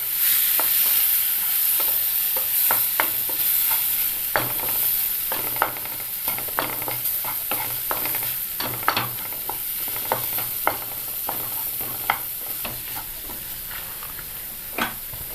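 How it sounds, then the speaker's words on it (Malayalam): A steady sizzle and hiss from a hot pan of masala paste for a potato curry as hot water goes in, with scattered clinks and scrapes of stirring throughout; no talking. "ഇതിലേക്ക് അല്പം ചൂടുവെള്ളം ചേർക്കാം"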